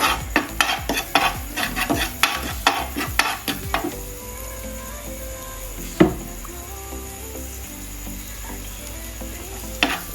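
Dumpling filling stir-fried in a pan, a steady sizzle under clustered scraping taps of a utensil against the pan early on, then mostly continuous frying with an occasional sharp knock.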